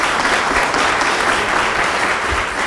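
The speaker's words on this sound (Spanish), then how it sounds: "recibimos, por favor, a nuestro invitado con un caluroso aplauso." An audience at an interview event applauds warmly to welcome a guest, a steady, dense wash of clapping that fills the whole moment with no talking over it.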